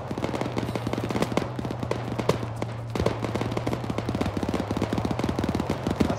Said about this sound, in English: That's a lot of gunfire, I don't think I want to go up there.